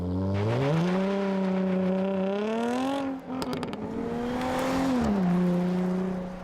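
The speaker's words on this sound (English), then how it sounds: "Switch it up to the loud mode and it backfires and burbles" Loud, close exhaust of a 2014 Jaguar F-Type convertible in its loud mode, a sustained revving drone that rises and falls, with a brief dip and a burst of crackling backfire pops around the middle before the engine note swells again.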